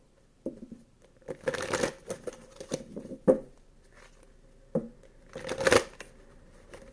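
Riffled tarot card shuffles come in several bursts, crisp papery flutters with soft taps and pauses between, close and fairly loud.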